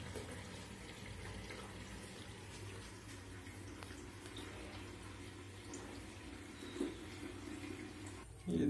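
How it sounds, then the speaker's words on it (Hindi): Water runs steadily into a replacement flush cistern of a Western-style toilet, a soft continuous hiss and gurgle, faint and close, no one speaking over it. "ये पानी चालू कर दिया है, ये हमारा पानी भरने लग गया है।"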